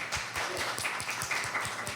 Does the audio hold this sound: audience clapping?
yes